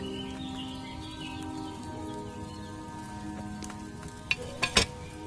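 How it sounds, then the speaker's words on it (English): A cauldron bubbling over a flame in the video game Kingdom Come Deliverance 2, a soft steady simmer with a faint sizzle under ambient bird calls, ending in a few sharper clinks or pops. "Hear that bubbling? It's boiling."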